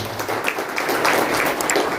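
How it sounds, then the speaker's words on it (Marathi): A crowd at a public function applauds for politician Nilesh Rane, a continuous, fairly loud patter of many hands clapping together without a break. "निलेशजी राणे साहेबांसाठी जोरदार टाळ्या होत्या"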